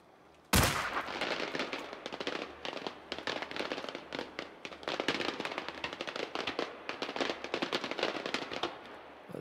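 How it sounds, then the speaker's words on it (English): Fireworks thrown in the Generation Zero video game go off in a sharp initial bang, followed by a long, dense string of rapid crackling pops at irregular rhythm, loud and continuous. "I'm going to throw another fireworks instead of a flare."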